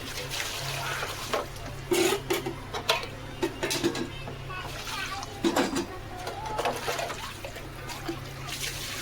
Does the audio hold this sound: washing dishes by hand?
yes